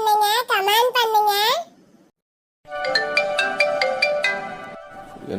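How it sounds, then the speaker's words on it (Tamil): A mobile phone ringtone plays loud and close, a bright melodic tone sequence following a voice, then a short silence before the tune resumes. "என்ன ஃபோன் வேற சவுண்டு கேட்குது."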